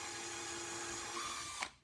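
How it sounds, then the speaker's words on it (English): A power drill pre-drilling a screw hole into an existing hole in a wooden serving tray, a steady whine running nearly two seconds before spinning down abruptly. "you're going to take a pre-drill and come into the hole that's already there"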